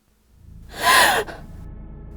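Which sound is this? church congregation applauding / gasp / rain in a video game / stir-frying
gasp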